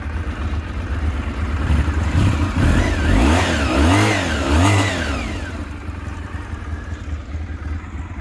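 A nearby Honda VFR400R NC30 V4 motorcycle engine, still cold, rises and falls through several quick revs over a steady idle, then drops back to a low idle.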